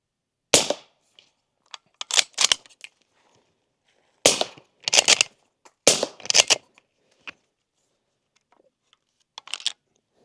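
Suppressed shots from a bolt action .300 Blackout rifle, several sharp muffled cracks in small clusters, each followed by quick metallic bolt clicks and clatter, with quiet gaps between.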